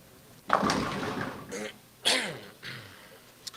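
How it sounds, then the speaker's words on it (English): A person clears their throat close up, two rough, raspy bursts with a short pause between them, no talking. "Still clearing my throat here."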